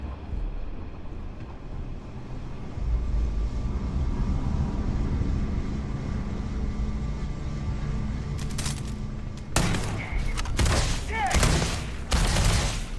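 Gunfire from a gun in the video game Starfield: a low rumbling game soundscape gives way near the end to several loud, sharp bursts of shots in quick succession.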